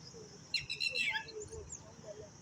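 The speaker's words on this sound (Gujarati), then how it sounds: "ટીટોડીનો અવાજ સુંદર આવે છે" A red-wattled lapwing gives a quick series of sharp, high piercing calls, moderately distant, followed by fainter chirps over quiet background murmur.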